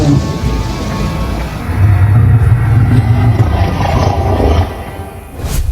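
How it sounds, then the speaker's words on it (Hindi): A ghost cow roars loudly in a horror audio drama, a long low rumbling growl swelling in the middle and holding for several seconds over a dark ambient bed, with no talk. "ये कहते हुए गाय की भूत जोरों से गरज उठा।"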